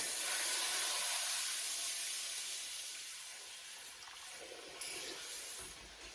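Milk hits a hot pan of fried bacon ends and pieces with a loud burst of hissing sizzle that slowly settles into a softer, bubbling steam.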